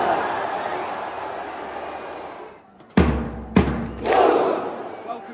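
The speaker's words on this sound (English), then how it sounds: "One of the greatest Viking claps." Football fans in a stadium stand over a low crowd murmur, then two loud, widely spaced unison claps with shouts boom out as the Viking clap begins.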